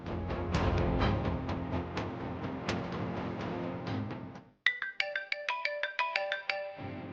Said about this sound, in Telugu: ఇందాకటి నుండి ఫోన్ రింగ్ అవుతుంటే లిఫ్ట్ చేయట్లేదు